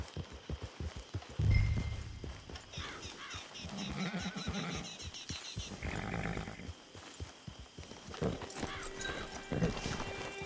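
Horses in the Red Dead Redemption 2 video game, with rhythmic clip-clopping hooves, a loud snort or whinny, and soft ambient music and wildlife calls layered underneath at moderate, fairly quiet level.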